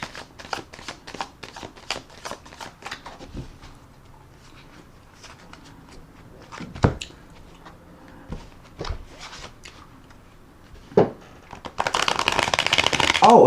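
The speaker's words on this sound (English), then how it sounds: "I'm going to put another shuffle and rifle on the deck." A tarot deck is shuffled and riffled by hand, with quick rapid card flutters at the start, scattered snaps in between, and a dense loud riffle toward the end, alongside some soft speech.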